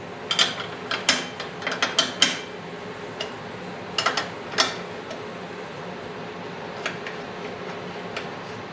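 Rapid ratchet clicking in bursts as a seat bolt is loosened on a 1980 Harley-Davidson FLT Shovelhead, close up, with brief pauses between strokes and fading to quieter ticks.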